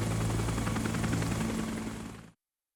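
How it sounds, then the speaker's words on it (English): Chinook helicopters fly with a steady, dense rotor roar and low engine drone, loud and constant before cutting off abruptly. "The howitzers were maneuvered by Chinook helicopters to their respective positions as part of the new tactics."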